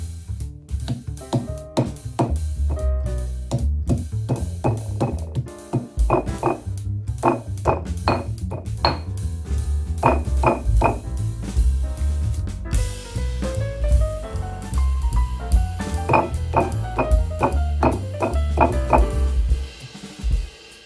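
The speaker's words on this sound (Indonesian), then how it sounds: "Bila sudah dingin, kita geprek dulu dagingnya." Cooled boiled beef being pounded flat for Indonesian empal, a steady run of sharp, ringing knocks in uneven rhythm, close and loud with no voices.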